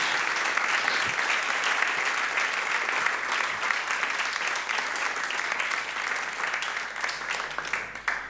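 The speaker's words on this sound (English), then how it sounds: "They should get an incredible applause that they serve so much." A large audience at a Christian arts evening show gives sustained applause for the volunteer teachers and artists, a dense, even wash of clapping that holds steady throughout.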